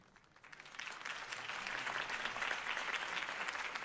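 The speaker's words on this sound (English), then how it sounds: "could have heard that applause" Crowd applause for a mayoral campaign speech, starting light and quickly swelling into steady, dense clapping that holds for several seconds.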